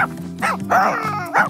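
A cartoon puppy gives a few high, yappy barks with whiny tones, close and clear, in quick succession.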